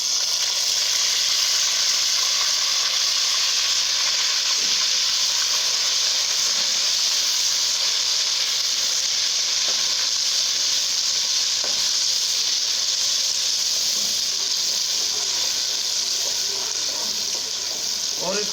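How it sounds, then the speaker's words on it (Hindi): Ginger garlic paste sizzles and spits in hot ghee in a pan while cholay is cooked: a loud, continuous close frying hiss with occasional crackles. "घी हमारा अच्छी तरह गर्म हो गया। अब हम सबसे पहले अपना 2 चम्मच अदरक लहसुन का पेस्ट वो इसमें"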